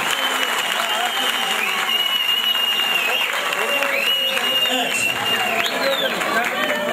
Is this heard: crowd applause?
yes